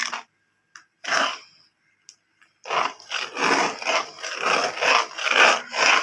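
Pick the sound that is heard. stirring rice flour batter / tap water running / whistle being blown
stirring rice flour batter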